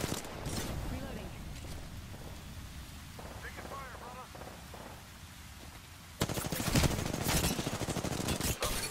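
Gunfire in the Apex Legends battle royale shooter, bursts of rapid shots at the start and again louder near the end, with game effects between and someone talking over it.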